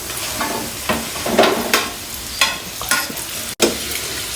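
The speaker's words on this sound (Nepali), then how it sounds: "अब हामी मिक्स गर्दैछौँ" Spiced fried meat being stirred in a pan while pickle (achar) is made at home, with a steady sizzle broken by repeated scraping stir strokes, close and fairly loud, no voices.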